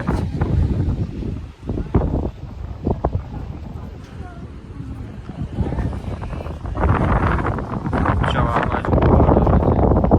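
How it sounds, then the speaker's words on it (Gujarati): Steady seaside wind at Diu buffets the microphone in loud gusts, growing stronger toward the end, with bits of voices and outdoor noise in the background. "તમે જોઈ શકો થોડો પવન નો અવાજ આવતો"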